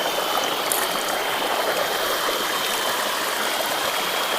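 Ubbalamadugu waterfall in Andhra Pradesh pours in a loud, continuous rushing roar of falling water, steady and close throughout with no voices.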